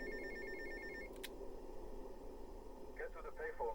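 A payphone rings in the video game GTA Vice City, a faint electronic ring that is brief and repeated, followed by a short burst of ringing near the end, all under a soft, steady game background.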